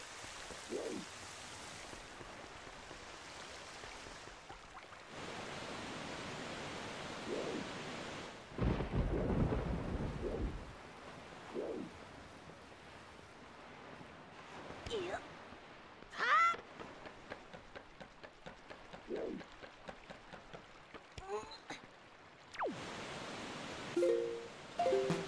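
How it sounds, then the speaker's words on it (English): Stormy weather in the video game The Legend of Zelda: The Wind Waker, steady rain hiss broken by several deep rolls of thunder, one loud close crack midway, and scattered softer rumbles with brief game effects. "It's raining."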